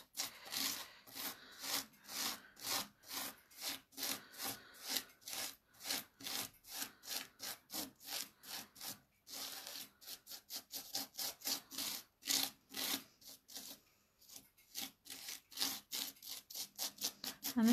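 Texture paste being scraped across a black mixed media layout gives a series of rhythmic, rasping strokes, about two per second, close and fairly quiet with brief pauses between passes and no talking.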